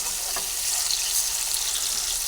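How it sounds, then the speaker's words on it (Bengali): Okra sizzling and frying in hot oil in a home kitchen pan, a steady close crackle that stays even throughout with no talk. "ঢেঁড়সগুলোকে এই তেলের মধ্যে দিয়ে দিচ্ছি"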